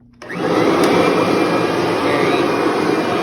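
A Kirby Sentria upright vacuum cleaner switches on and runs in self-propelled drive, a loud, steady broadband roar and whine that starts abruptly and holds without a break, with no talking.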